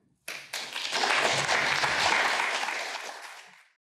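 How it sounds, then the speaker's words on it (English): A studio audience at a live political talk show breaks into a sudden round of applause. It is dense, steady and close, lasts about three seconds, then cuts off sharply, with no talking over it. "Got a decent round of applause for that."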